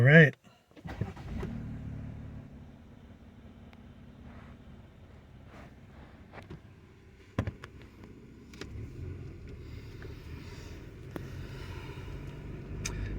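A Jeep on an off-road trail crawls through unpacked sand, giving a steady low engine rumble with wind buffeting and occasional knocks and thumps throughout.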